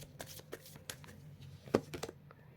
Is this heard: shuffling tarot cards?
yes